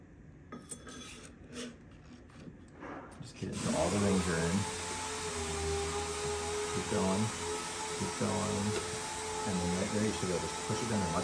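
Vacuum tester running on the wrist pin retainers of a Detroit Diesel 6-71 engine during a rebuild, starting after a few seconds of quiet clatter as a loud steady whirring hum, with a voice talking over it.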